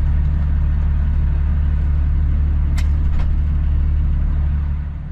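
Semi truck rolling slowly up to a diesel pump at a fuel station, a steady loud low engine rumble with a couple of brief sharp hisses partway through, fading slightly at the end.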